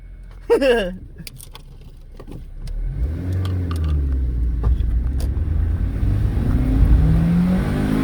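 A Honda car with a VTEC engine revs hard while accelerating uphill, a loud rising engine roar building over several seconds and holding steady, heard from inside the cabin after a brief voice.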